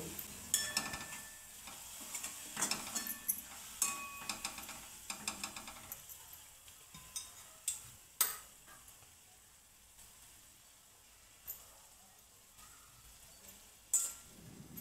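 Wild mushroom vegetable dish (alambi bhaji) stirred in a pan after salting, with a spoon scraping and clinking in an irregular rhythm over a soft sizzle, busier at first and then sparser with occasional sharper knocks.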